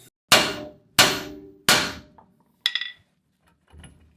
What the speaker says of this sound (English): smack it with a metal hammer here a bunch of times